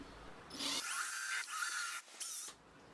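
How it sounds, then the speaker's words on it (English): Small power drill boring a pilot hole into the end of a wooden broom handle, a high whine that starts, dips briefly, and stops after about two seconds. "Now I'll drill a pilot hole in one end."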